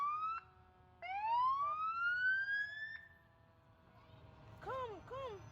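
Sirens wail from a distance, a rising whoop followed by several quicker yelping sweeps, faint to moderate over a low rumble of road noise.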